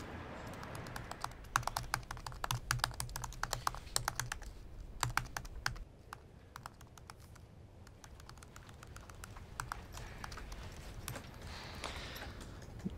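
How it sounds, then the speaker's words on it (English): Rapid clicking of a computer keyboard in a library, bursts of quick keystrokes close by, pausing briefly midway before continuing. "they can hear you typing all the way in periodicals"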